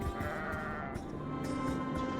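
A ewe bleats in the video game Argonus and the Gods of Stone, a close, drawn-out wavering cry lasting about two seconds over a soft beach ambience.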